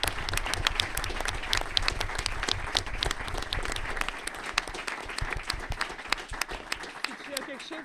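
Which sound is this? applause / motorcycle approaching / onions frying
applause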